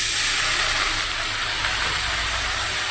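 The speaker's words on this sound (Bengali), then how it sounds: "সামান্য একটু জল দিয়ে দিলাম।" Water splashed into a pan of hot oil and spices for a small-fish curry, giving a loud, steady steam hiss that holds across the whole moment, close by and with no voices.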